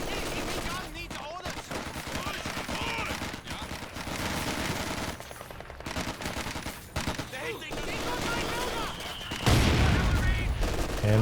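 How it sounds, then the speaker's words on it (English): An MG42 machine gun rattles in rapid bursts during a Company of Heroes 2 battle, mixed with other gunfire and explosions, with a commentator speaking over the action. "Big damage from the MG42."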